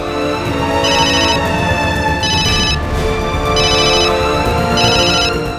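Telephone ringtone repeating in four evenly spaced bursts of bright warbling tones over steady background music, loud and close with no talking.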